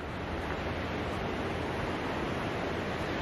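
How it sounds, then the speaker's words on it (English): Steady wind roars and buffets the microphone in an open hillside cemetery at Port Chalmers near Dunedin, a loud continuous broadband rush with no pauses, and no voices are heard. "It's very windy today, as you can hear."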